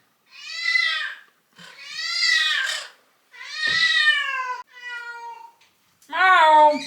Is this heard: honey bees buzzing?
no